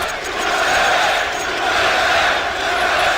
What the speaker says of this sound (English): Listening to the chants.